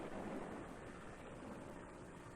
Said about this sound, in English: the tops curl forward, the waves break, and give up their energy on the beach